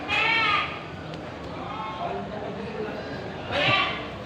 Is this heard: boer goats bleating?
yes